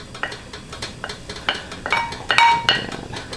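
Beef drop flank is stirred in a pot for a Lao beef stew. A spoon scrapes and clinks against the metal in irregular strokes over a soft, steady sizzle, close and fairly loud, with no talking.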